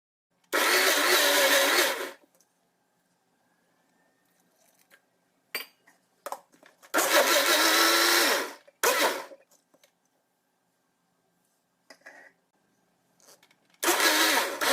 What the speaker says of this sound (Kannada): ಈಗ ಕೆನೆಯಲ್ಲಿ ಅರ್ಧ ಭಾಗದಷ್ಟನ್ನು ಒಂದು ಮಿಕ್ಸಿ ಜಾರ್ಗೆ ಹಾಕಿ ಸ್ವಲ್ಪ ನೀರನ್ನು ಸೇರಿಸಿ ಮಿಕ್ಸಿ ಮಾಡಿಕೊಳ್ಳಿ